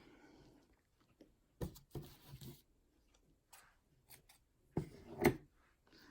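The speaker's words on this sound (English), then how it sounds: "I'm going to take this blue, and I'm going to cut off a pretty long piece" Scissors cut off a long piece of blue yarn for a crochet granny square. Two quick groups of crisp, close snips break up an otherwise quiet room, with a few faint handling noises between them.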